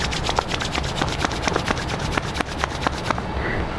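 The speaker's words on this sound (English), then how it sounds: "Rub your palm." Palms rub briskly together during a yoga relaxation exercise, a close, rhythmic series of dry swishing strokes repeating quickly for a few seconds.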